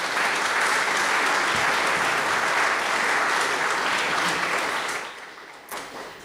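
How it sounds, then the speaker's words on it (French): A conference audience applauds the organisers at the opening of GIS Day 2022, a dense, steady wave of clapping that holds strong for about five seconds, then thins out to scattered claps and fades. "Je crois qu'on peut tous les remercier, les applaudir chaleureusement pour avoir organisé cette belle journée."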